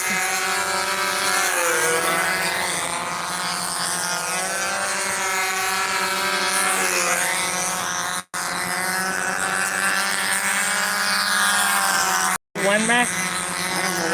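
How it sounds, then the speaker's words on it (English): Two Wenmac model aircraft engines run together at a Buzzards contest, a steady high-pitched buzzing drone with shifting pitch that carries on almost unbroken, with two brief sharp cut-outs near the end. "Listen to the sound of those two Wenmacs."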